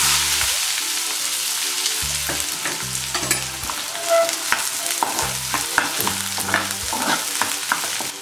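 Onion fries in two tablespoons of oil for pav bhaji, a steady sizzle and crackle broken by repeated scraping stirs, close and alone with no talk.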